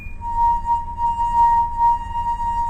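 A wine glass rim rubbed so it sings, giving a sustained pure ringing tone that wavers slightly in loudness, close and fairly loud.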